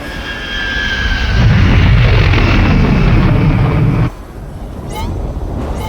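Spaceship engine roaring and building to a loud broadband rush for about four seconds, then cutting off abruptly to a lower hum with brief whooshing streaks, from the Star Wars: The Old Republic video game.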